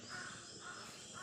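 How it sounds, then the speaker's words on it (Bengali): Crows cawing outdoors in a green village just after dawn, three drawn-out calls spaced evenly at a moderate distance over quiet morning ambience. "আশেপাশে শুনতে পাচ্ছেন যে পাখিরা কি সুন্দর কিচিরমিচির করছে"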